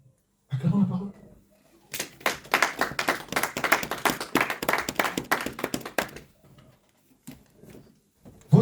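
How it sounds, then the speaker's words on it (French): A church congregation breaks into loud, close applause lasting several seconds, dense at first and then tapering off into scattered claps, with brief talk before and after. "Acclamons la parole."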